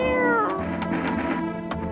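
A cat meows in the video game No I'm Not a Human, giving several drawn-out, wavering meows in quick succession, close and clear, with a few short clicks between them and no talking.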